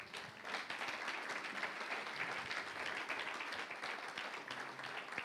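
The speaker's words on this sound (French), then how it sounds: "On l'applaudit très fort" A church congregation claps steadily and enthusiastically for several seconds, a continuous wash of applause at moderate distance.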